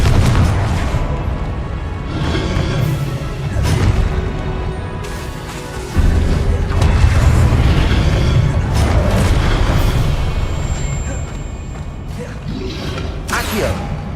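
Spell explosions from Confringo blasts in the Hogwarts Legacy video game, repeated booming bursts and whooshes through a dense, loud mix, with a heavy impact near the middle and fainter blasts trailing off near the end.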